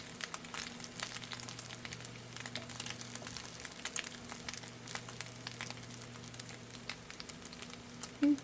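A tuna patty (albondiga) fries in a pan with a faint, steady sizzle and soft crackle, low and continuous throughout.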